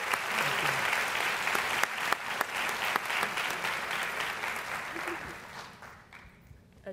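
Sustained applause from a school audience for 2018 Galileo graduates of distinction at a graduation ceremony in Danville, steady and dense for several seconds before tapering off near the end.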